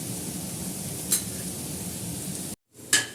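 Onions fry in a pan for a dahi sabzi, a steady close sizzle with a couple of brief clinks of a utensil, cut by a short silent break.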